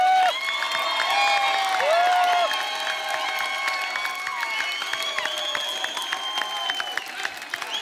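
A studio audience at a comedy talk show greets Salman Khan with loud, sustained applause and scattered cheers and whoops, a thick wall of clapping under bright music that continues throughout.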